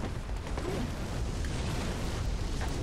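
Oil urn and fire bomb erupting into flames in Bloodborne, a dense, sustained low roar of burning and bursting that stays steady and loud throughout.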